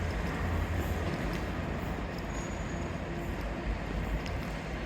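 A special train rumbles through Newton Abbot station with a steady, dense roar of wheels and rolling stock, heard continuously at moderate distance with no talking over it.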